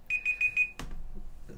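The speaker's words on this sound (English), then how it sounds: "buzzer will go off at the end of that." Google Search's built-in timer buzzer goes off: four quick, evenly spaced electronic beeps, clear and close, followed by a brief click and quiet.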